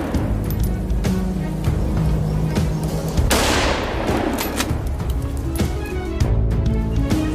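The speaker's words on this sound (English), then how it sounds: "I hold my rifle steady and fire, but only one boar is taken down." Rifle shots fired at charging wild boar during a hunt, heard as a dense burst of gunfire with a loud crack around the middle and further shots later, over steady outdoor background noise.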